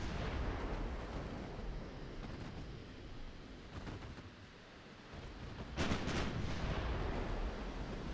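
Naval gunfire in Ultimate Admiral Dreadnoughts as high-explosive shells hit an enemy battleship: a continuous rumbling barrage of booms and distant impacts, with a sharper burst of blasts near the end.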